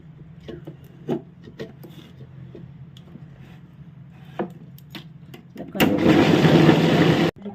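A mixer grinder cup of soaked rice is handled with a few light knocks and taps, then the motor roars loud and steady for about a second and a half as it grinds the rice into paste.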